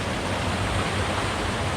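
A small waterfall spills into a creek pool with a steady, close, full-bodied rushing of water and no one talking.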